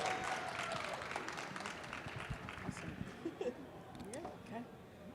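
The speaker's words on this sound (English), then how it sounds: "Can we give them a round of applause for today?" A small audience at a corporate partners' panel event gives a round of applause, clapping that thins out as scattered voices and movement come through underneath.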